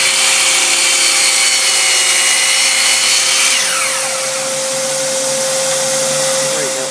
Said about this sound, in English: So first of all, I'm going to make this cut right here